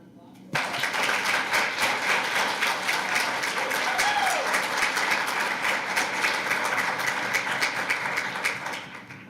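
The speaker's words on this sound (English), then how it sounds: "Let's give him a round of applause." Audience at a school board meeting breaks into sustained applause for an honored high school principal, a sudden loud start followed by a dense, steady roar of clapping that tapers at the end.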